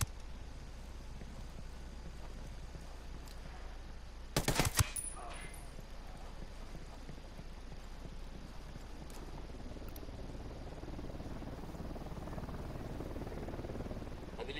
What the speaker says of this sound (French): il a un minigun, le salaud.